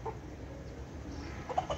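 A small, fierce rooster on a farm gives soft, scattered clucks, faint at first and then a short cluster near the end, over a steady outdoor background.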